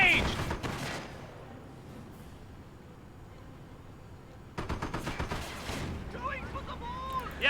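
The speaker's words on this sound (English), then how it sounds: "sustaining a bit of autocannon fire" Autocannon fire from the Company of Heroes strategy game, sounding as rapid bursts of battle gunfire at the start and again later, with an excited voice talking over it.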